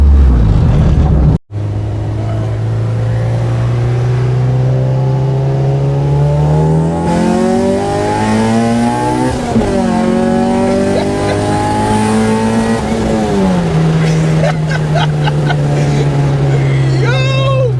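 A Nissan Sentra B13 SE-R race car with an SR20 VVL engine revs loudly on a track, with a long rising and falling engine note through gear changes, close and dominant throughout.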